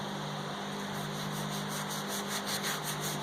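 A brush rubs vinegar onto rusty metal with a steady, soft scrubbing hiss. The strokes are close, quiet and continuous, and no voices are heard.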